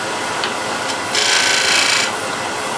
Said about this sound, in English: So now I tilt it up on it to the right and go into corner lightly and light scrape.